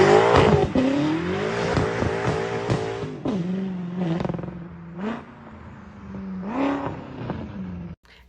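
A BMW F10 M5 twin-turbocharged 4.4-liter V8 revs hard in several rising and falling sweeps, loud and close, each pull building then dropping back to a steady idle hum before a final abrupt cut.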